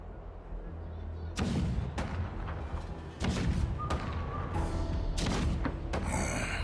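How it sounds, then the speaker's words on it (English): Deep booming cannon blasts in the video game Honkai: Star Rail rumble at irregular intervals, several heavy thuds with crackling tails, loud and close against a steady low background. "The rumble of the cannons."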